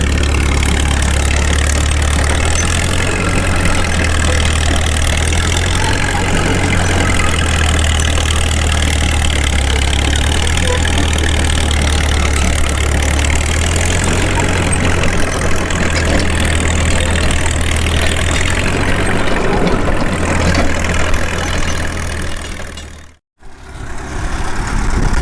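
A Caterpillar D2 crawler tractor's diesel engine runs under load while pulling, a loud, steady low rumble with a rhythmic throb that continues for about 25 seconds, broken only by a brief drop near the end.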